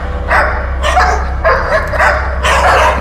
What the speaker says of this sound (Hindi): टॉय डॉग से आवाजें आ रही थी